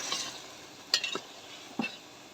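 Potatoes stir-fry in a pan with a soft continuous sizzle, broken by a few sharp scrapes and clinks from a spatula against the pan, close and alone without speech.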